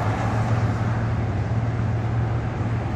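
Steady town street traffic rumbles nearby, a low continuous drone of passing cars and engines with no distinct events and no voices.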